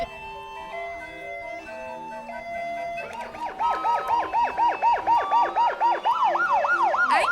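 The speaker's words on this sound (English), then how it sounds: "which is being drowned out by the police car coming behind it" Loud wailing police car siren rising and falling in fast repeated sweeps behind a parade calliope, whose steady organ tones are heard first before the siren drowns them out close by.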